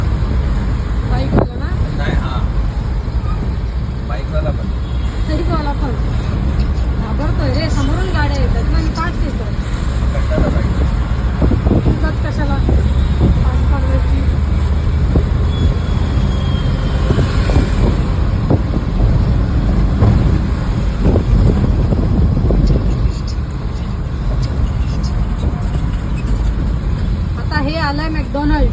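Heavy road traffic on Ghodbunder Road, Thane, near Fountain and McDonald's: a constant roar of cars, buses and trucks with engine rumble and passing vehicles, heard from within the traffic while people talk throughout.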